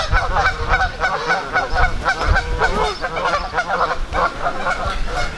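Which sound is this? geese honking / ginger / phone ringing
geese honking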